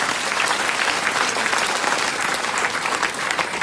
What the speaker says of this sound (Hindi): तो इसको तो तालियां आप लोगों के लिए हो जाए